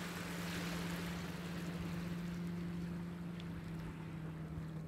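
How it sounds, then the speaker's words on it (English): A boat moving on open water outdoors, heard as a steady low engine drone with a constant hum, under a wash of wind and rippling water, fairly continuous and moderately distant. "I hear a boat."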